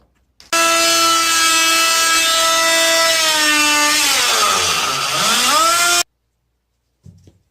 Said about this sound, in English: Then I'm going to take the vibe saw and cut the baseboard off right about there.